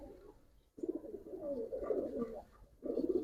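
Giribaz pigeons coo in a pigeon loft, producing low, throaty, rolling bursts that repeat after a short pause, close by and without speech.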